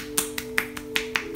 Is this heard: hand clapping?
yes